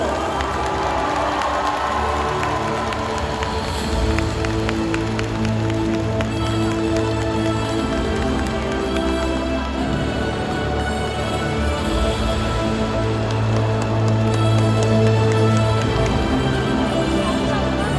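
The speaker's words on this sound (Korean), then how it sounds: "축하의 박수와 함성을 보내주세요" A large stadium crowd cheers and applauds steadily at the KBO All-Star Game at SSG Landers Field in Incheon, a continuous roar of clapping and shouting swelling at times, with scattered high voices.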